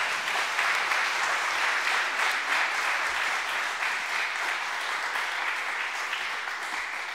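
A large seminar audience at a church applauds to welcome a pastor, sustained dense clapping that holds steady and loud throughout without any voices.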